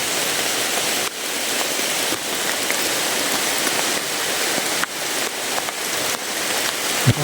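Steady rain pours down over a sheltered outdoor spot by bushes, a dense continuous hiss that stays loud throughout with no voices.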